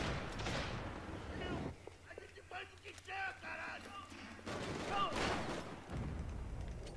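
Gunfire in Max Payne 3, scattered shots and bursts mixed with game music and effects, with someone talking over parts of it.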